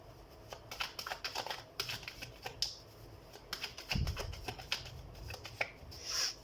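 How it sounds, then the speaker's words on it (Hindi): Tarot cards being shuffled by hand, a close run of crisp papery riffles and snapping clicks in uneven bursts, with no talking. "तो हम कार्ड शफल कर लेते हैं."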